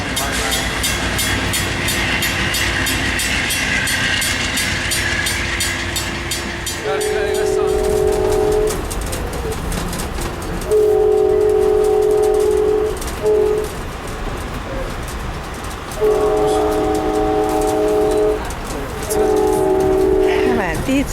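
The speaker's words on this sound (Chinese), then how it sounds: "又来看火车啦，马上还要来了，1分钟就来了啊！" A train passes a station with several loud, sustained horn blasts in repeated bursts over continuous rumbling rail noise; faint birdsong and background voices are also present.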